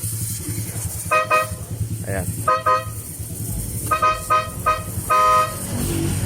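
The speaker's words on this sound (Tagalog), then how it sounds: "katulad dati yung tunog ng businang kinabit natin" Short blasts of a motorcycle snail horn with a slightly hoarse, less full tone, a single toot followed by pairs and a longer honk, loud and close over idling engine noise, with a voice briefly speaking.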